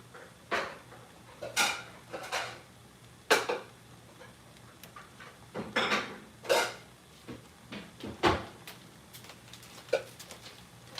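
Ceramic bowls and dishes clink and clatter in a kitchen where smoky chipotle mac and cheese is being made, giving a series of sharp, close knocks and scrapes at irregular intervals with no talk.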